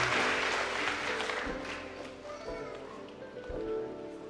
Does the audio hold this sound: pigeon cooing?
no